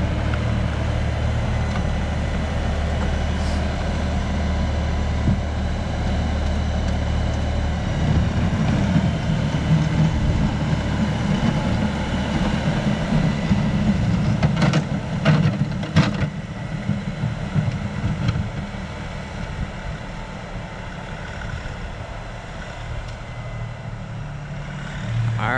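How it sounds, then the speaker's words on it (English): An LS tractor rolls past while back blading snow, its engine a steady low drone that swells and then fades over a long, continuous stretch with no talk. "One more quick pass of the LS tractor here."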